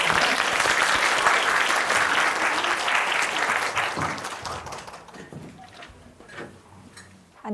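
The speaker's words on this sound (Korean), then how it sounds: "대표님을 박수로 맞이해주세요" Audience applause welcoming a guest speaker onto a talk stage, a dense, loud burst of clapping from a crowd that holds steady and then thins out toward the end.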